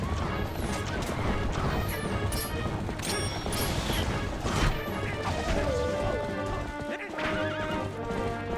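A bomb bursts with a loud crash in The Legend of Zelda: Twilight Princess HD, surrounded by a horse's shrill whinnies and continuous galloping hoofbeats.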